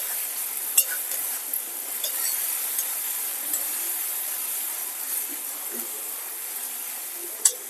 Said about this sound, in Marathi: आता आपल्याला टोमॅटोची पेस्ट टाकायची आहे या कांद्यामध्ये चांगली शिजून द्यायची टोमॅटोची पेस्ट